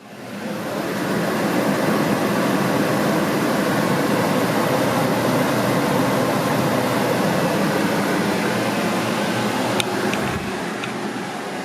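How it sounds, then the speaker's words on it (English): A TOSOT 8,000 BTU portable air conditioner running on max cooling in an office gives a loud, steady broadband whoosh of fan and compressor that rises within the first second and holds evenly. "I turned the TOSOT on max cooling settings and fired it up."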